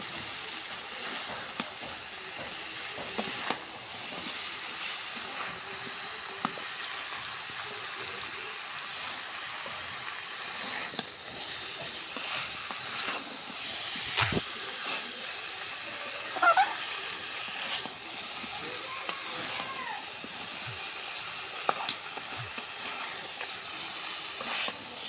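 Spices and vegetables are stirred in a frying pan, giving a faint, steady sizzle with scattered soft scrapes and clicks from the spoon.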